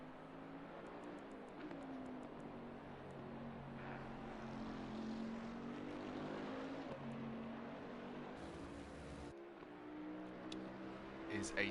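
A Bentley GT3 race car with a twin-turbo V8 of about 500 horsepower roars through an esports race at the Nürburgring in a racing game, a sustained engine drone with shifting pitch under steady commentary.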